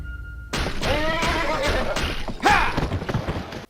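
A horse in a video game neighs and clops its hooves being led in, a loud whinny and a string of hoof thumps close by, no talk.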